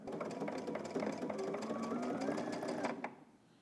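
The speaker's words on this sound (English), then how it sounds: "you wanna back stitch at the beginning and also at the end" A sewing machine runs steadily close up, its needle tapping rapidly while stitching a tank top seam, then stops near the end.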